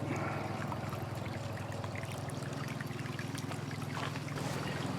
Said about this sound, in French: Il n'y a plus qu'à arroser